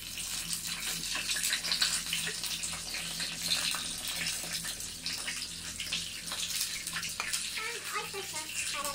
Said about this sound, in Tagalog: lagyan na natin yung ating chicken stock